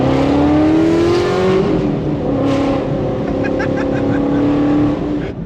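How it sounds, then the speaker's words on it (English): An 800 whp Whipple-supercharged Ford Mustang GT350 V8 drones loudly from inside the car, engine pitch climbing under acceleration then holding steady at cruise, a constant heavy rumble with faint voices beneath. "Mustangs are just so loud, you know, they don't even have to be catless to be stupid loud."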